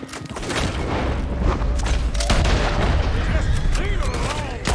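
Gunfire and booming blasts from a Red Dead Redemption 2 shootout roll on without a break, with a loud, dense low rumble of shots under shouted voices.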